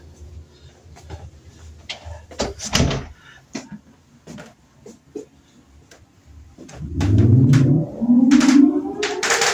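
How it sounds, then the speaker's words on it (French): A door is shut in a hurry during a Keringar visit: scattered knocks and bumps, then a loud rising grinding and scraping like a heavy door sliding closed, with no talk over it. "Fermez la porte, s'il vous plaît. Vite,"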